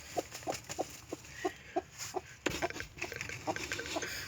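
A hen sitting on eggs clucks in short, regular bursts, close by, with soft rustling and shuffling movement around her.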